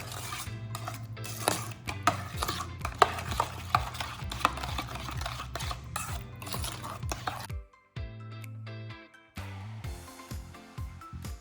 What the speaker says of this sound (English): 1 and 2 teaspoons of baking powder and about a teaspoon of baking soda, and I'm going to mix it all up.